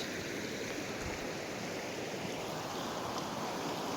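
Floodwater from continuous heavy rain rushes in a steady, powerful roar that stays constant without a break, with no voices.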